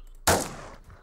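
A single sharp gunshot hits an enemy in the video game Island Royale, loud and close, with a brief fading tail and no voices.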